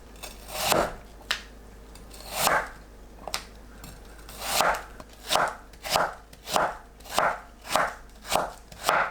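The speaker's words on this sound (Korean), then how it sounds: "무 200g을 채 썰어줍니다." Radish (daikon) being julienned with a knife on a cutting board for a Korean oyster and seaweed dish: crisp, close chopping thuds, scattered at first, then a steady even rhythm of about a dozen strokes, with no talking.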